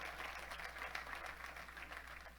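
A dense wash of clapping from a church congregation fills the space, steady and continuous with a low hum underneath.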